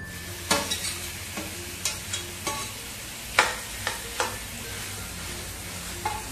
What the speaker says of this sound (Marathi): आपण हे बारीक करून घेतलेलं पनीर घालून घेऊया।